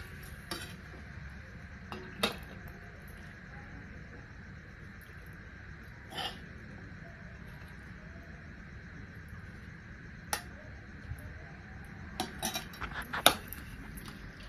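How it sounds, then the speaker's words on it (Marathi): Masale bhat rice being spooned out onto a plate, with scattered soft clinks and scrapes of a utensil against dishware over a low steady kitchen hum, a few sharper taps near the end. "तर ही भात मी एका प्लेटमध्ये काढून घेते।"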